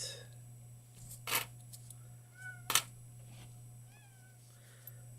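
A cat meows a few times indoors at a pizza place, short rising calls spread over several seconds above a steady electrical hum, with a couple of sharp clicks between them.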